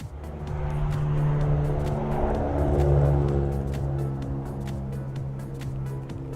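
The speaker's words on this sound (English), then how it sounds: "That was just a car that went past." A car passes by outside at night, a steady broad road rumble that swells toward the middle and slowly fades, heard from indoors with no talking.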